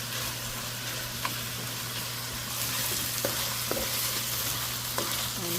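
Chicken pieces fry and are stirred in a pan for Filipino pancit, a loud continuous sizzle broken by several sharp scrapes and clinks of the utensil.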